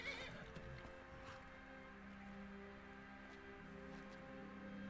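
A horse in the video game Skyrim neighs and whinnies loudly right at the start, then stamps and clip-clops over steady game ambience and music for the rest of the stretch.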